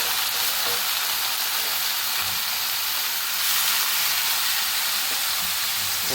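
Garlic and green chilies frying in hot oil in a pan for cashew-potato curry, giving a loud, steady, close sizzle that hisses continuously without pause and with no voices.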